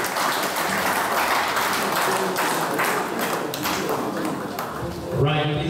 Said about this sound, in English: please round of applause for Anna Idris.